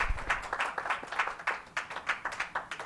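Audience at a live evening show breaks into applause: a quick, uneven run of clapping bursts from a modest crowd, steady and moderately loud for a few seconds with no voices on top.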